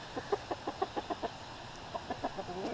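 Roosters clucking softly nearby in two short runs of rhythmic clucks, with a faint steady background hum.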